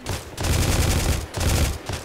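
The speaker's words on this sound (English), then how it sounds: "I'm just shooting down the hallway" Rapid bursts of gunfire echo down a hallway in GTA IV, two sustained loud volleys separated by a brief pause, with no talking.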